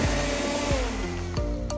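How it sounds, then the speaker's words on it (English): A blender grinds frozen avocado-lime cubes for ice cream, a loud steady motor roar with rhythmic knocking as the cubes tumble against the blades. "And you plop them right in the blender."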